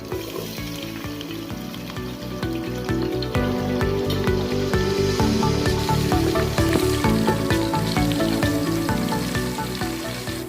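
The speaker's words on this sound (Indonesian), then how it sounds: "Sekarang kita goreng bawangnya." Shallots sizzle and crackle in hot oil for Padang beef rib soup, a continuous frying hiss with occasional stirring clatter, steady and close.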